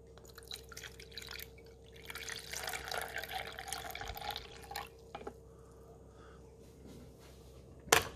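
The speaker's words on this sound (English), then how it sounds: "So we got to pour it back here in the back." Water trickles and drips steadily into a coffee maker's rear reservoir for several seconds, a light splashing pour close by, ending with a sharp click.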